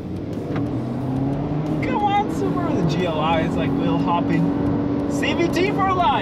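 A 2022 Subaru WRX SPT, a Kia Stinger and a VW Jetta GLI launch together in a drag race, with engines rising in pitch as they accelerate away under people talking.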